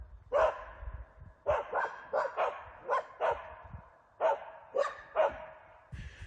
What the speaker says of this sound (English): When the dogs start barking like that